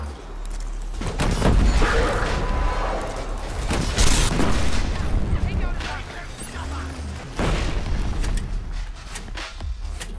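Rocket launcher fire in the shooter Killzone: Shadow Fall booms in heavy blasts amid crackling gunfire and combat noise, several loud impacts spread across the stretch, with a player talking underneath.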